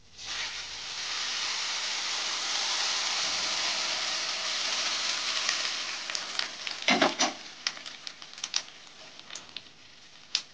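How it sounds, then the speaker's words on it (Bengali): Hot water poured into a sizzling pot of chicken, giving a loud rushing hiss of steam and bubbling for several seconds that slowly fades into scattered crackles and pops. "এবার আমি পাশের যে গরম জলটা করে রেখেছিলাম সেইটা ঢেলে দিচ্ছি।"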